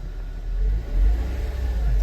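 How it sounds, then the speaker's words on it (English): A car engine runs with a deep, steady low rumble and briefly swells as the gas is tapped lightly, heard close with no talking. "if I tap the gas a little bit"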